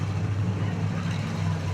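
Demolition derby car at a county fair, its engine bogging down in gear: a low, labored steady engine drone, loud and close, with a heavy rumbling hum that does not rise.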